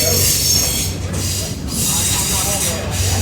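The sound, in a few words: Wilmington & Western Doodlebug rail car running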